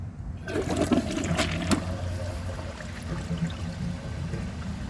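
An ultra low consumption Delta Turner toilet flushing up close, a sudden loud rush of water that swirls and drains steadily for several seconds, then thins toward the end.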